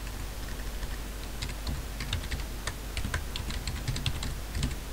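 Rapid clicks from a computer keyboard, close up and fairly quiet, with keys pressed in quick uneven bursts over a steady low hum.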